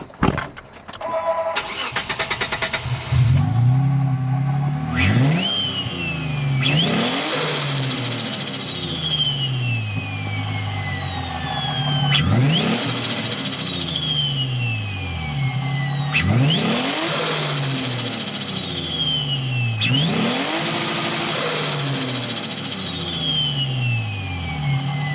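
Isuzu bakkie fitted with a 300 kW 2GR engine fires up with a brief starter crank, then revs hard in repeated rising surges that fall back to a rumbling idle, loud and close throughout.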